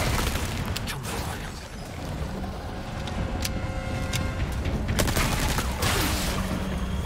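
Gunfire from the Resident Evil 4 Remake video game forms a dense, loud, continuous barrage, with sharp shot bursts standing out against constant rumbling action noise.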